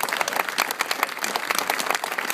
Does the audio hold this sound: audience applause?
yes